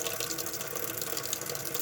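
Water runs steadily from a homemade waterfall-style sink faucet attachment made from a discarded yogurt bottle, a constant close hiss and splatter into the basin with no voices.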